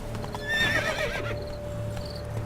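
Horse in The Witcher 3 video game whinnying near its start, with faint hoof clip-clop and a steady game-engine hum underneath and no talk.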